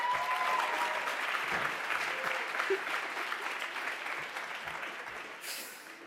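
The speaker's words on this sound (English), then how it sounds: "Again, big round of applause." An audience at a hackathon award ceremony claps in a dense, steady round of applause that slowly fades toward the end.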